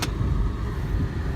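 A 2000 BMW 540i E39 auction car with its engine running, a steady low rumble heard from inside the car for about a second, fairly loud, with no talking.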